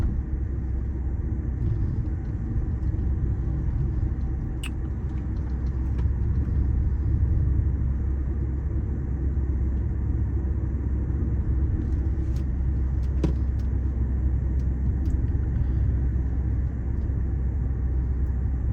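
Steady low road rumble from a 2010 Audi A4 B8 Avant wagon driving along a road, a smooth continuous engine and tyre drone heard from inside the cabin for the whole stretch, with no talking.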